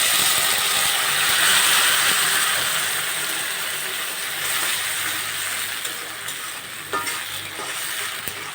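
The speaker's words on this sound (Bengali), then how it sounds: "একটু পানি দিয়ে দিলাম" Water hits a pan of frying garlic and salt for an egg curry, setting off a loud, broad hiss and sizzle that slowly calms, followed by a few scraping clicks of a utensil.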